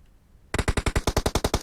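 Automatic gunfire in the battle royale game PUBG bursts in after a brief quiet, a loud rapid string of about a dozen evenly spaced shots.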